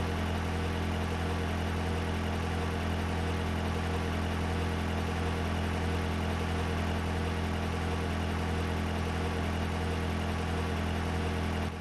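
A car engine idles with its fuel injectors running, producing a steady, unbroken low mechanical hum and vibration at even loudness throughout, with no voices.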